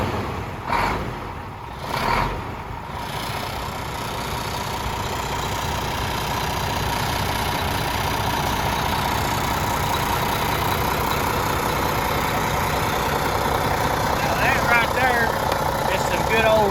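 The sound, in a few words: Mack truck engine idling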